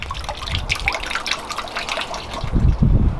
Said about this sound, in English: it's splashing in the pond and bouncing off onto the filter box